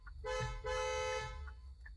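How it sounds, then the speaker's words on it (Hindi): A car horn sounds in two sustained blasts with a short gap between them, loud and close, followed by a brief faint toot near the end. "दूसरा क्या है? हॉर्न है।"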